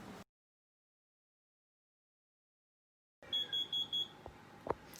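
A kitchen timer goes off while cookies bake, sounding four short high-pitched electronic beeps in quick succession after a silent gap, followed by a couple of faint clunks nearby.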